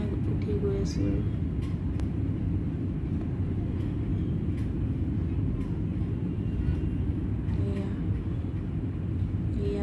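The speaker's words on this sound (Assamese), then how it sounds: "এয়া টেক অফ কৰিছে ফ্লাইটে।" Inside the cabin of an airplane taking off on a flight from Guwahati to Hyderabad, a steady low engine roar and broadband rumble fill the space, with faint scattered sounds over the drone.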